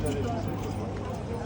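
Horse hooves clip-clop at the Horse Guards ceremony in London, a steady patter of shod steps under dense crowd chatter and voices.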